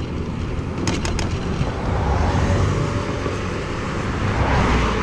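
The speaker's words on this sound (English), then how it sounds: "Boy, that car was awful close." A car passes close by on a road, a loud broad whoosh of tyres and engine swelling over several seconds amid wind buffeting on the microphone.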